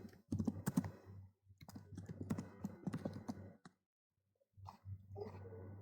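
Close, quiet typing on a computer keyboard: quick bursts of clicking keystrokes, a short pause with near silence, then another run of taps.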